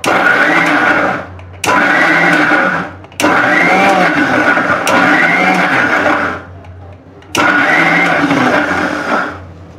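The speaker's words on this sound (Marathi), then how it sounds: "आता मी मिक्सरचं भांडं लावलेलं आहे. आता आपण चटणी वाटून घेऊया." Kitchen mixer grinder blending raw mango chutney, a loud whirring motor run in several pulses of one to three seconds with brief pauses between.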